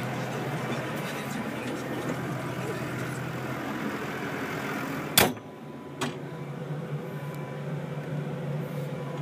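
A dirty farm tractor engine runs steadily while driving, a continuous close rumble with a sharp knock partway through and no talking.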